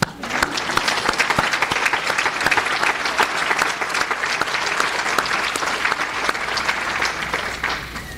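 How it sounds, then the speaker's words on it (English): An audience at a regional prevention summit breaks into sustained applause, loud dense clapping with sharp individual claps throughout, steady for several seconds before easing slightly at the end. "All right, and so time for the applause."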